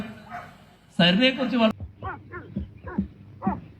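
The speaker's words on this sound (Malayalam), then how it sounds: "അതെങ്ങാണ്ട് പട്ടി മൂങ്ങുന്ന ശബ്ദം" A dog whimpers in a string of short, rising-and-falling whines, roughly two per second, following a burst of talk.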